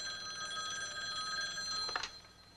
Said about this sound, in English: one of those phone calls again